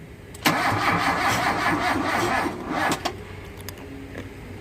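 A rebuilt 2.0-litre Mazda B2000 engine fires up for the first time with a sudden loud catch, then runs roughly and steadily at close range with a few uneven surges.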